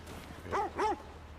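A dog in the video game The Last of Us Part II gives two quick, close barks in succession over a low, steady background hum.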